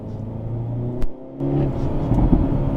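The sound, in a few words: sports car engine revving on downshift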